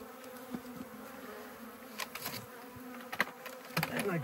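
Honeybees in a hive during an early spring inspection, a soft continuous buzz with scattered clicks and knocks from handling the frames, no voices.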